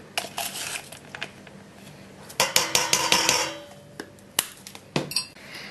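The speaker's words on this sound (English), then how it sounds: "Now I'm using the smaller now of the 2 measuring spoons." Metal measuring spoons clinking and tapping while scooping bicarbonate of soda, bursts of bright jangling and scraping clatter with short pauses between, close and fairly loud.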